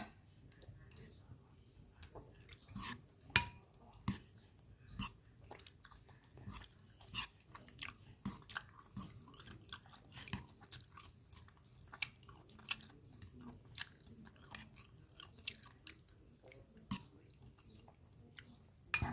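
Close, quiet chewing and soft crunchy bites of rice porridge with liver, irregular little clicks and smacks over a low murmur, with no talk.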